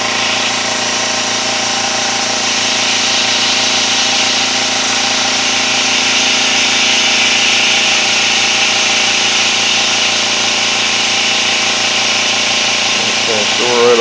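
Gast air compressor motor on a bench test running steadily with a constant hum and whir, loud and close throughout with no pauses, near its thermal protection limit.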